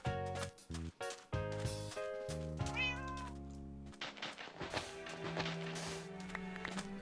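Minecraft cat meowing repeatedly in a series of short, close, tonal calls, with a few soft taps or footsteps mixed in and no talking.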